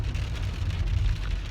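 Steady rain falling outdoors, a continuous wash of hiss over a strong low rumble with no gaps, close and fairly loud.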